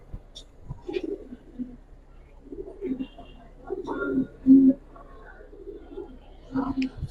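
Giribaz pigeons coo nearby in soft, low, throaty bursts, with one louder coo in the middle. Quiet voices murmur now and then in the background.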